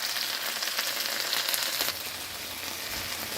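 Black pepper chicken sizzling steadily in a hot pan as it is fried and stirred, a dense bright crackle with a brief scrape partway through.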